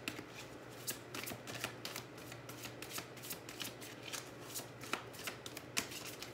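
Tarot cards being shuffled for a card pull, with a continuous run of close riffling and flicking card sounds over a faint steady hum.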